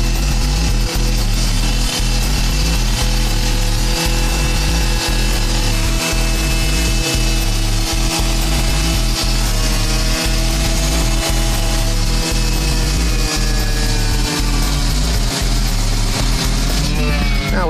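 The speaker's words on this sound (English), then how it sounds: "Now we'll hook up the hose and cut it." A loud, steady grinding of a water-cooled saw cutting through a concrete slab, running continuously with a rhythmic low thumping underneath and no break.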